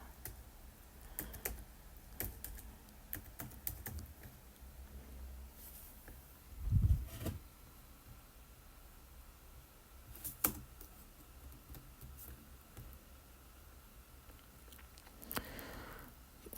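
Clicks of a computer keyboard while something is typed, sparse taps scattered across the stretch with a louder thump partway through, quiet and close.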